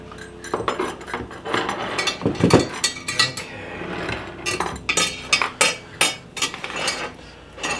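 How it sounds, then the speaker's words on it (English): Bicycle spokes are dropped one after another into a wheel rim, producing a string of close metallic clinks and light rattles at an irregular rhythm, some louder jangles among fainter ticks. "That technique involves first dropping in a bunch of spokes."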